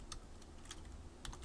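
Quiet keystrokes tap on a computer keyboard in a short burst of a few irregular clicks over a faint steady hum.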